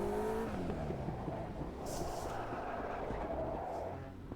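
Race car drifting and sliding in Automobilista 2: engine note dropping then roaring steadily, with tyre scrub and brief squeals through the slide, moderately loud and without talk.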